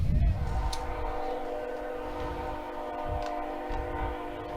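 A train horn sounds in a long, steady blast while a train rumbles past in the background at a high school baseball game at Chapin.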